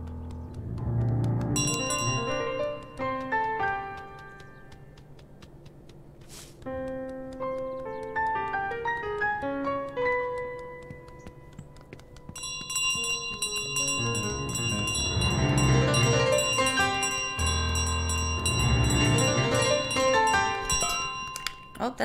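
A bell rings repeatedly in Untitled Goose Game, its bright tones layered with background music and game sounds, while a player talks excitedly over it.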